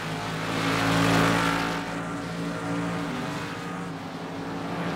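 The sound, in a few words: race cars passing by in the video game Project CARS 2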